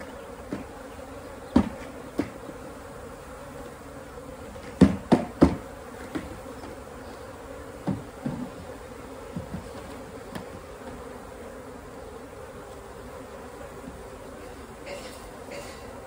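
A swarm of bees buzzes around a hive box, a faint, steady hum with scattered sharp knocks and taps from handling the box.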